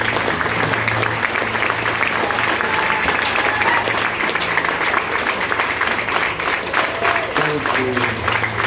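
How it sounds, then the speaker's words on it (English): An audience applauds together at a local community gathering, a steady, dense wash of clapping that holds at an even level throughout, with faint crowd murmur underneath. "So give yourselves a big hand."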